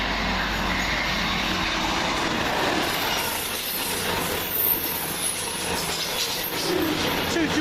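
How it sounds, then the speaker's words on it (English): Virgin Trains cross-country passenger train running from London Euston to Edinburgh Waverley, passing with a loud sustained rumble, wheel squeal and rhythmic clatter over the rails. "we're hoping this is 9 Sierra 70 going from London Euston to Edinburgh Waverley for cross-country for Virgin Trains"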